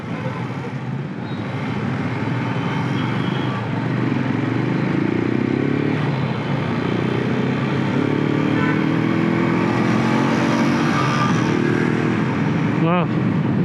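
A motorcycle riding through heavy city traffic, with a steady engine drone and road noise throughout, a rising rev pattern and surrounding vehicles close by, with voices audible over it.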